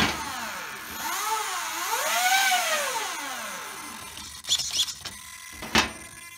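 An RC car motor driven by a faulty Mamba X ESC whines up and down in pitch as throttle is applied and eased, followed by a few short clicking and rattling bursts, close and fairly loud.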